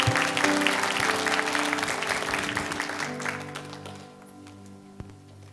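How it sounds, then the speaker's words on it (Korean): A church young adults' worship congregation applauds to welcome a visiting missionary speaker, loud clapping that gradually fades over several seconds, with soft music playing underneath. "큰 박수로 우리 환영하겠습니다"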